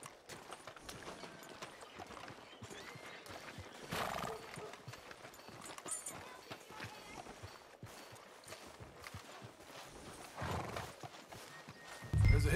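Horse hooves clip-clopping along a town street in the video game Red Dead Redemption 2, with a brief whinny. Footsteps keep a steady rhythm under soft game ambience, and a louder thump comes near the end.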